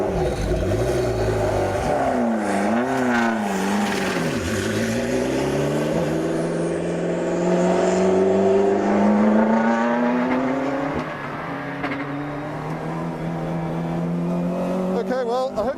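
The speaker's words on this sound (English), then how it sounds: "This is going to be one lap of the Woking Radio Speedway in the McLaren MP4-12C GT3" A McLaren MP4-12C GT3 race car lapping the Woking Radio Speedway, its engine droning loud and steady with rising and falling pitch as it accelerates and shifts, continuous and close throughout, with faint voices underneath.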